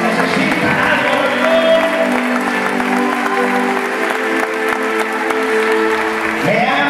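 Church congregation applauds loudly and continuously, a thick wash of clapping with musical instruments sustaining tones underneath.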